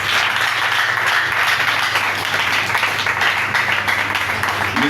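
A church congregation applauds after a scripture reading, with dense, sustained clapping that fills the room at full loudness for the whole stretch.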